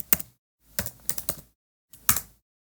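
Keystrokes on a computer keyboard as a web address is typed into a browser search bar, arriving in short close bursts of crisp clicks with brief pauses between them.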